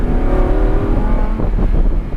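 A 610 HP Lamborghini Huracan accelerating hard on the Dominion Raceway track, heard from inside as a loud, steady engine roar rising in pitch over two seconds.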